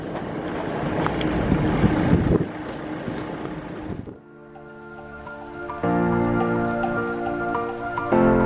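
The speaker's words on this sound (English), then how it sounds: "And here's our boat." At a ferry jetty in Coron, Philippines, wind buffets the microphone before a boat's engine settles into a steady droning hum, growing slightly louder.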